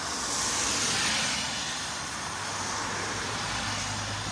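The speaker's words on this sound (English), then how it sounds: "That's traffic approaching the bridge." Traffic on a very rainy afternoon approaches the Canje Bridge in Berbice, heard as a steady, broadband wash of passing cars and road noise on wet pavement. It runs continuously without talk, moderately loud and fairly close.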